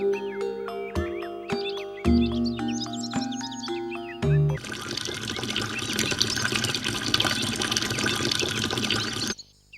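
Oil poured out for a customer in an animated scene, a liquid filling sound that starts after a few seconds of music and runs steadily for about five seconds, loud and alone.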